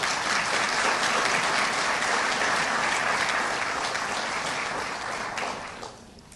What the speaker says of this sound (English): Let's give Steve another round of applause.